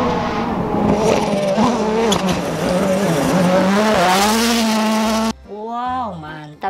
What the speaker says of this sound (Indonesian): Wow, lihat nih, ada mobil balap juga teman-teman.